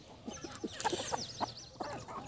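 Desi chickens on a poultry farm, a few soft clucks and short throaty calls in a quick irregular series, fairly close but quiet over a light background hum.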